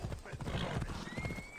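Galloping horse in Assassin's Creed Odyssey, a steady stream of quick hoof clip-clops running throughout, close and loud, with someone talking over it.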